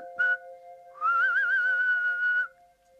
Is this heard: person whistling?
yes